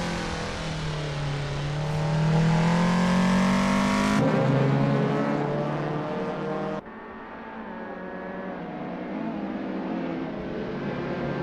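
Race car engines roar in the first lap of an Assetto Corsa race between a Peugeot 205GTi and a VW MK2 Golf GTi at Rostock Osthafenkurs, a loud close engine note rising through the revs, then sharp gear changes and a passing drone.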